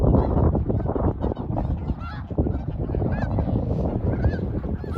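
A dense flock of wintering snow geese, with sandhill cranes nearby at Bosque del Apache, keeps up a continuous loud chorus of overlapping honks that fills the whole stretch with no pause.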